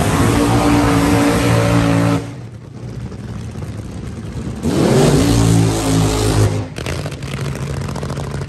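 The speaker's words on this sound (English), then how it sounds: "He starts to rev the engine, smokes the tires, and gets ready for the race." Drag racing car at the starting line, loud engine revving in bursts with tire smoke, a strong roaring rise, a drop to a lower idle, then another surging rev before settling again.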